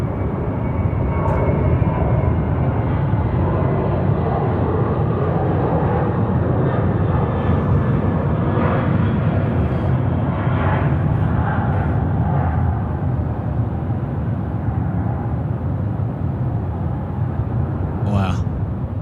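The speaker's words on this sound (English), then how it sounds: "What a takeoff." An airplane taking off from Sydney Airport at night fills the air with a loud, steady roar and deep rumble that holds strongly throughout, with only faint traces of other sound in the background.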